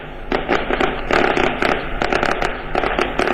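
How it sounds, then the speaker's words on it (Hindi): Firecrackers burst in dense, rapid crackling volleys outside Congress party headquarters during a celebration, loud and continuous with brief gaps between clusters of sharp pops. "बहुत जोर से उनको बोलना पड़ रहा होगा जिस तरह से पटाखों का शोर है"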